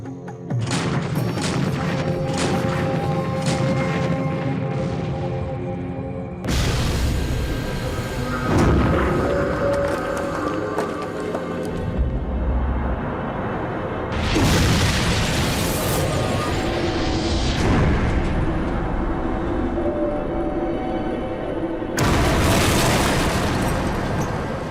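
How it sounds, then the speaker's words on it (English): Heavy Bofors gun firing in wartime, loud booming blasts in repeated bursts with long rumbling tails, filling the whole stretch with dense gunfire. "Mighty powerful gun, that Bofors gun."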